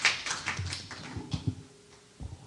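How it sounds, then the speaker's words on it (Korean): A conference audience at an academic symposium offers brief, scattered clapping for a professor taking the stage, a few distinct claps near the start that thin out into sparse taps. "전 교수님 큰 박수 좀 보내주시기"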